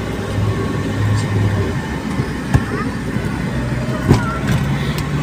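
A car moving slowly through the grounds of a tent pegging event at Faisal Hill, its low engine and road rumble steady, with a few brief knocks and a voice talking over it.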